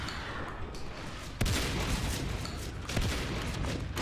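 Shotgun fire in Natural Selection 2 during a competitive match, dense chaotic battle noise with two sharp blasts standing out, the second about one and a half seconds after the first.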